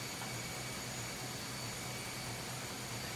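The main engine of a RO-RO ship runs in the engine room, a steady low droning hum with a broad mechanical roar that stays constant, no voices present.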